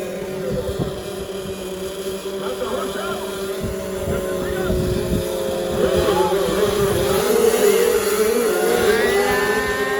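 Small 65cc motocross bikes race in the first heat of an invitational motocross event in Baungon, their engines droning steadily and rising in pitch as they rev, with a crowd and commentary audible throughout.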